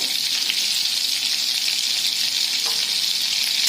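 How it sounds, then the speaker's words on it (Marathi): Butter melting into hot oil in a kadhai for vegetable pulao, a steady dense hiss of frying fat held close and even throughout, with one faint clink partway through. "बटर छानसं विरघळू द्यायचं."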